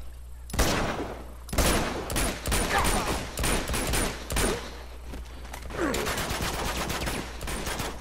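AK rifle fire in the video game Uncharted 2 comes in rapid, loud automatic bursts, one volley after another with short gaps between them.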